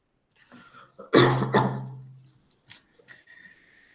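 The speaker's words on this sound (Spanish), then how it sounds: "Voy a estar tosiendo un montón, así que pongo mute hasta que sea necesario." One person coughs hard in a loud burst, followed by a softer cough and faint throat noises, close to the microphone.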